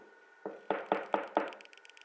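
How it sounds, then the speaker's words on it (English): Four even knocks on a wooden front door, a fifth softer lead-in tap before them, close and fairly loud in a quiet room with no talk. "then he knocked on the door"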